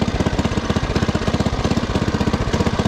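An original Scat Kat motor idles after a cold start with a loud, close, rapid chugging beat that stays even and steady throughout.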